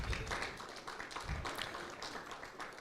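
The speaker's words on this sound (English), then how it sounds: "can we give our innovators a round of applause" An audience claps a round of applause for innovators at a workshop session, a dense, steady patter of many hands that stays fairly even and moderately loud for the whole stretch.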